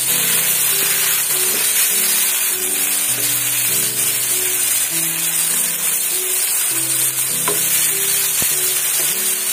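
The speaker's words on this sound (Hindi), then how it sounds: "जिंजर और गार्लिक का पेस्ट ऐड करने के बाद 3 से 4 मिनट में अच्छी तरह से इसे और फ्राई करूंगी।" Chicken with ginger garlic paste frying in a karahi for black pepper chicken karahi, a dense continuous sizzle with stirring scrapes and an occasional metallic knock, close and loud, no talking.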